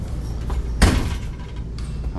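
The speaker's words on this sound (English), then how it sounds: "I need 2 hands to shut this door." A door on a 2020 Winnebago Spyder 23FS half-ton toy hauler is pulled shut with one solid close, a single near thud with a rattle, followed by quiet.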